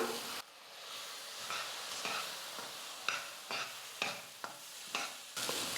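Semolina cooks with milk in a pan while a spoon stirs it, making a series of distinct scraping strokes over a low bubbling sizzle, close and fairly quiet, with no talking.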